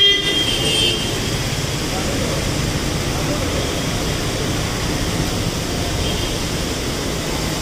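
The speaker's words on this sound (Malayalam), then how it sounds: "നല്ല കിടിലം മഴയാണ്." Heavy rain falls in a dense, even, broadband roar that runs unbroken throughout, while a person talks underneath it.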